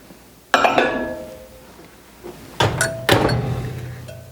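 Spoon clinking against a glass bowl while stirring Jell-O, a few sharp ringing knocks and scrapes separated by quiet pauses, close, no talking.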